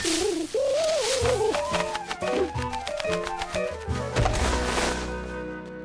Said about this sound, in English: George was happy to see his friend the pigeon.